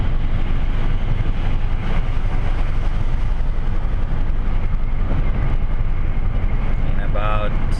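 Steady low road and engine rumble of a car cruising on a highway at 80 km/h, a constant broadband drone from inside the cabin with no breaks.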